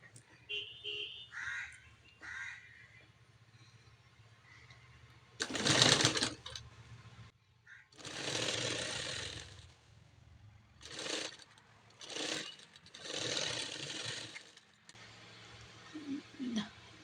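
Bursts of a sewing machine stitching the pieces of a puff sleeve together, several short runs of stitching with pauses between them, close by, with a few faint voices in the quieter gaps.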